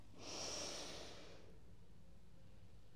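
A single breath drawn in through the nose during a yoga exercise, close and soft, a hissing inhale of about a second that fades into quiet room tone with no talking.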